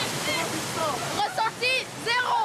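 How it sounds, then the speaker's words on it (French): One of the many cascades in Montenegro's Tara canyon pours in a steady, broad rush of falling water, with voices talking over it. "au pied d'une des nombreuses cascades sur le parcours, une douche rafraîchissante"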